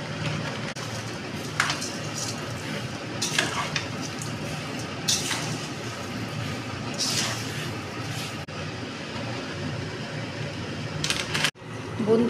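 Mango pieces frying in a pan for sweet pickle give off a soft, steady sizzle, with intermittent scraping stirs and a brief clatter near the end.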